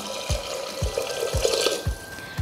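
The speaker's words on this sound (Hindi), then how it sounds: "अब मैं इसमें ऐड करूँगी वन एंड हाफ कप पानी" One and a half cups of water poured into a pan of briefly fried dal, a continuous splashing pour with a few soft, regular knocks underneath.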